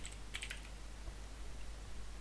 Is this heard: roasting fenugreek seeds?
no